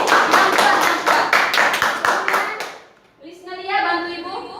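Classroom students clap their hands together in a lively burst lasting about three seconds, then a voice speaks alone as the clapping stops.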